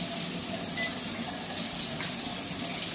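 A Kohler DTV Plus shower rain head pours water in a constant, even hiss of falling spray, close and steady throughout, with no voices.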